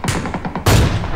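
Gunfire in the video game PUBG during a night mode match: a quick patter of shots followed by one loud, close blast, all within about a second.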